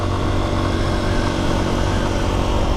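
A brand-new Lifan single-cylinder 198 cc motorcycle engine running steadily close by, a constant loud, rough, even idle thrum with no change in pitch and no voices.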